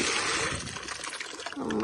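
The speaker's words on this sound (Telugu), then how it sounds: "వాటర్ పోసేసుకొని" Water poured onto garden plants in the evening, a continuous close splashing flow with a voice talking over it.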